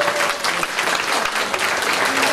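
Steady, dense audience applause fills a community hall at a charity finale event in Kałuszyn, clapping continuously and evenly for a first-place prize winner with no pauses.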